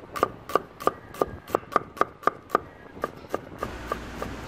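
Steady knife chopping on a cutting board, mincing shallots and ginger, about a dozen sharp, evenly spaced knocks, close and clear, slowing slightly near the end.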